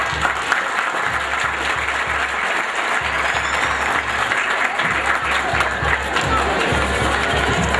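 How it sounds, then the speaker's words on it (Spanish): A crowd applauds loudly and steadily at the inauguration of an agricultural, livestock and crafts fair in Luvianos, with dense continuous clapping and scattered cheers throughout. "Bien que se escuchen los aplausos fuertes, fuertes, fuertes, fuertes."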